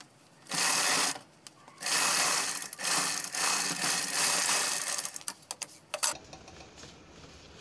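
A sewing machine stitches a double seam on a garment sleeve: close, loud mechanical whirring in several bursts separated by pauses, ending with quick clicks and rattles as it stops.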